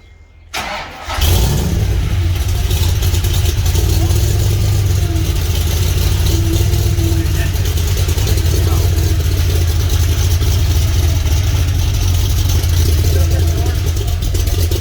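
A go kart engine cranks briefly, catches and settles into a loud, steady rough idle close by, running continuously for over ten seconds.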